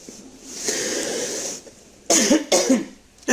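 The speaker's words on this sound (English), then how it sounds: "I do apologize for coughing." A person coughs twice in close succession, loud and near, after a stretch of softer breathy noise, with no talking.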